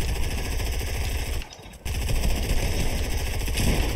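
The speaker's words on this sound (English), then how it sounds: "Ah, they're shooting at me." Rapid automatic gunfire in the video game Fortnite, a loud, continuous rattle of shots that breaks off for a moment and then resumes.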